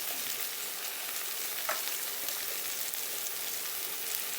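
Green banana curry frying in a pan with cumin, turmeric, salt and chilli powder, giving a steady, soft, continuous sizzle at moderate distance with one brief scrape near the middle.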